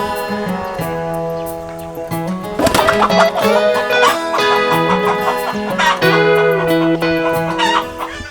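Free-range chickens, a flock of about 500, cluck steadily nearby outdoors, with a rooster-like call rising partway through over a busy, continuous background.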